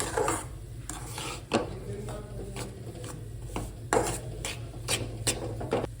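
Gram flour roasting in ghee is stirred with a spoon, giving rhythmic scraping strokes against the pan over a low, steady sizzle.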